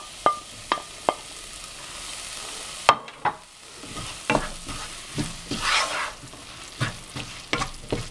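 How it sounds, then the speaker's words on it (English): Tomatoes go into frying masala spices for a restaurant-style paneer tikka masala. A few sharp utensil taps lead into a burst of sizzling, followed by steady stirring and scraping in the pan. "Here we are going to add our tomatoes."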